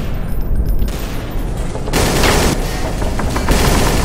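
Bursts of gunfire and loud blasts from the shooter game Counter-Strike: Source, dense and rapid, with an overall rise in intensity partway through and no talking.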